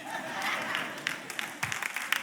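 A church congregation applauds together, a steady wash of clapping from many hands in a large room, with a few sharper individual claps standing out as it continues.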